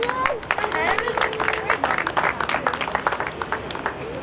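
Audience applause at a reunion event, lively clapping from a modest crowd mixed with whoops and chatter, strong at first and thinning toward the end.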